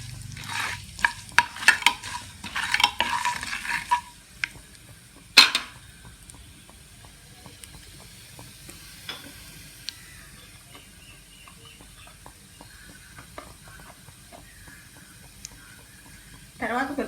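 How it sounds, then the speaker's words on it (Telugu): A tempering of spices sputters in hot oil for a tamarind and green chili chutney, with a brief burst of stirring and crackle early on, then faint scattered pops and ticks over a quiet background. "కొద్దిగా చిట్టపట్లాడినట్టు కొద్దిగా వేయించుకోవాలి."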